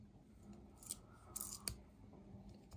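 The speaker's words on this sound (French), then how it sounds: "on va tester les ciseaux avec la paracorde" Small Gerber Armbar Slim Cut scissors snip through paracord, a few faint, brief metallic clicks and cuts spread over a quiet background.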